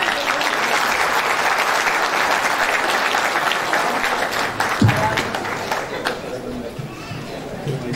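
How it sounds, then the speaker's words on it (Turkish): A concert audience at a spring performance by a Turkish folk music choir claps loudly and continuously, with some crowd chatter mixed in; the applause thins and softens toward the end. "Çok büyük bir alkışlar istiyorum kendisine."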